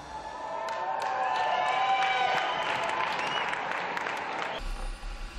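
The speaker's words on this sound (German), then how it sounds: "Applaus im Halbstundentakt." Applause from a crowd at the IAA motor show, where Volkswagen staff dance on stage. Steady, dense clapping holds for about five seconds with tonal cheering or music running through it, then thins out near the end.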